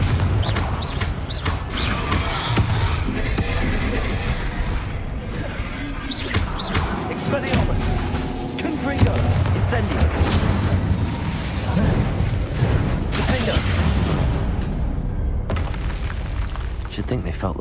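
Fiery spell blasts and booming impacts in Hogwarts Legacy on PS5, dense clattering mechanical crashes and rumbling bursts running continuously and loud throughout, with a voice speaking amid the chaos.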